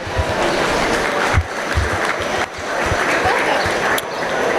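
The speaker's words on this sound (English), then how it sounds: "Let's give them a nice round of applause as they exit the ring." A crowd claps steadily in a large, reverberant show ring at a swine show, a sustained wash of applause with a few louder claps standing out.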